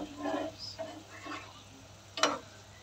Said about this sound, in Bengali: তো এইভাবে করে আমি আবারও সুন্দর করে উল্টাপাল্টা করে দিচ্ছি।